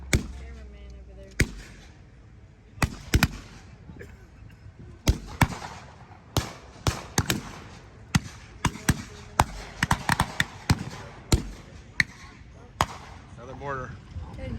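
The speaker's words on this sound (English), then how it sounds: "Another mortar." Sharp, loud blasts of mortar fire at a WWII battle reenactment, over a dozen irregular bangs spread across the scene, some in quick clusters, with people talking in between.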